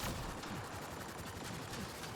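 Rapid gunfire from a weapon in the video game Mass Effect Andromeda, a dense burst of overlapping shots that stays loud and close for the whole short stretch, with no voices.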